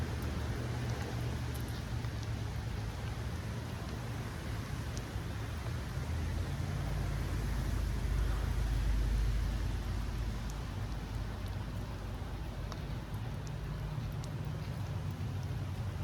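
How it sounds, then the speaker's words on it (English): Rain falls steadily outdoors during a scrapping session, a constant broadband hiss with a low rumbling undertone that swells slightly midway, continuous and unbroken without speech. "How's that rain ASMR?"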